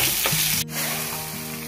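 Spices for tempering crackle and sizzle loudly in hot oil before going into a dal cooked with drumsticks, a steady close frying hiss with a brief dip partway through. No one speaks.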